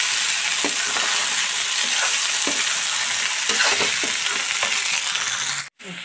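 Pieces of meat frying in a pan while being stirred, a loud continuous sizzle broken by repeated scraping strokes of a spoon, close up with no talking and a brief drop near the end.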